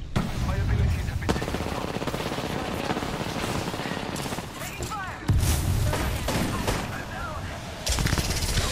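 Rapid automatic gunfire rattles in the video game Apex Legends, steady and close, with a loud burst near the middle and voices talking over it.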